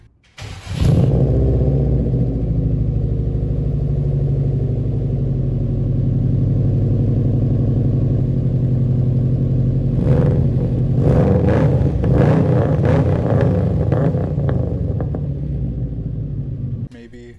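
A Subaru car engine idles with a deep, throaty exhaust rumble, then revs repeatedly in quick bursts before settling back down, loud and close.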